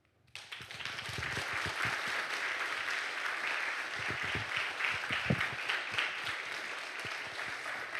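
Audience at a creation science seminar applauds to welcome a speaker, vigorous sustained clapping that starts abruptly and stays loud and steady.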